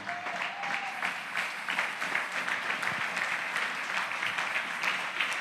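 A church congregation claps steadily through a Sunday service, a dense, even wash of many hands that lasts about five seconds without a break.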